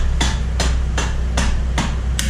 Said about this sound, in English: Take a hammer and lightly tap the axle.